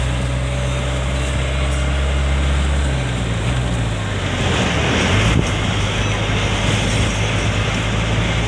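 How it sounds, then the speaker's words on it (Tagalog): Strong wind buffets the microphone in a steady, loud roar, with a low engine-like rumble underneath that shifts partway through. "Hindi ko matarong pag video kasi malakas ang hangin"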